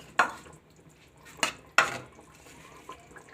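Beef biryani meat being browned and stirred in a pot, a few sharp metallic spoon scrapes and clanks against the pot at irregular intervals with quiet kitchen background between.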